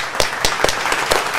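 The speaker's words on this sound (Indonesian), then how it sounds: "tepuk tangannya mana untuk dua narasumber kita." A conference audience applauds two speakers at a cloud technology talk, a brief, moderately loud patter of scattered claps.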